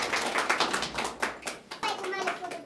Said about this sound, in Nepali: उहाँको लागि पनि जोरदार तालीले स्वागत गरौँ।